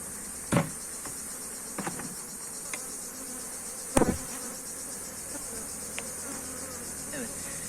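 Honeybees buzzing around a beehive frame, a faint steady drone with occasional soft knocks and handling taps nearby.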